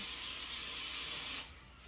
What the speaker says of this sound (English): Then I'm going to get my 2 pans and I'm going to spray them.